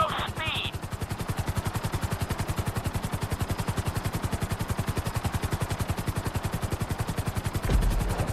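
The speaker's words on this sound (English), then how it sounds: "we'll see how well you handle the chopper" Helicopter in Grand Theft Auto V flying at flight school, its rotor chopping in a fast, even, loud rhythm that continues throughout, with a brief clatter near the start and a thump at the end.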